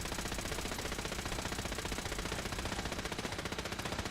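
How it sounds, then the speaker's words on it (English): Continuous rapid automatic gunfire from a broken turret in the video game Fallout 4, a dense, loud, unbroken rattle of shots lasting throughout with no talk. "Oh no, the broken"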